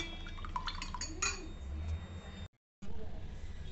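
A spoon stirs a mixture with black pepper powder and black salt in a bowl, making quick metallic clinks and scraping against the bowl's sides, then a brief pause before the stirring resumes.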